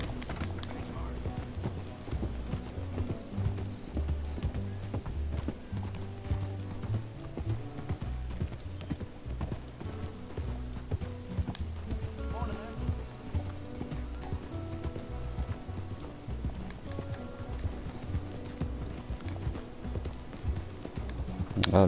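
Horse hooves clip-clop steadily at a walking pace in the Red Dead Redemption 2 video game, a continuous near rhythmic clatter over game soundtrack music and ambient sound.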